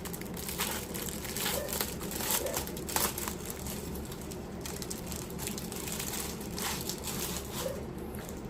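A tablet box with a screen protector and a book-style case being unwrapped, giving continuous close crinkling and rustling of plastic packaging with a few sharper crackles and tears.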